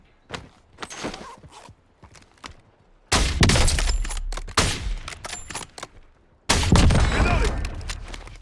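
Close automatic gunfire exchange in Warzone: light shots and footsteps, then two heavy sustained bursts of loud fire separated by a brief pause, followed by another intense volley, with no one speaking.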